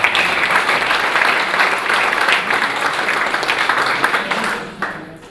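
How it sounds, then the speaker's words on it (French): Audience applause at an association's 2015 general assembly, a dense sustained clapping from a room of people that fades out near the end. "vous pouvez nous applaudir."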